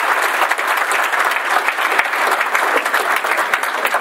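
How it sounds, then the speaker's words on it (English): Continuous audience applause at a realtors' legislative breakfast, close and even, with many hands clapping steadily throughout. "let's all give our speakers another round of applause for sharing this great information this morning"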